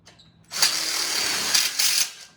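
After a quiet start, a power driver spins up and runs steadily for about a second and a half, surging briefly as the screw seats, locking an extender tube on an outdoor kitchen grill.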